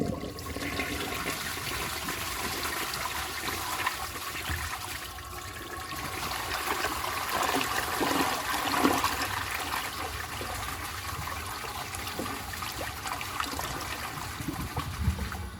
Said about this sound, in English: For a weak looking flush,